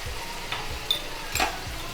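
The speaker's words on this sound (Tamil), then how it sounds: "இப்போ நல்லா தக்காளி வந்து வதங்கட்டும்." Onions and tomato sauté in a pan with a low, steady frying hiss, while a spoon makes a few soft stirring scrapes.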